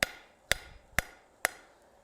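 Blacksmith's hammer striking metal, four sharp ringing blows at an even half-second rhythm, close and clear with no talk.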